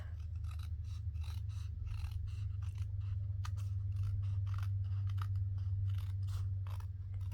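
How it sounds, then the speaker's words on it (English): Scissors snip repeatedly through fabric as excess is trimmed from a zig zag fold pocket, a quick run of close crisp cuts over a steady low hum, with no talking. "I have to trim this off anyway. And I have a little here I need to trim off."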